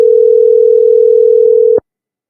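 A telephone dial tone sounds on the line while a caller is being connected to a live stream: one steady, loud, unbroken tone that stops abruptly just before the end.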